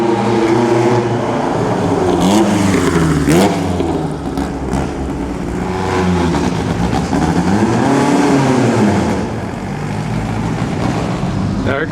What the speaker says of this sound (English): Now here comes a Ferrari into the checkpoint.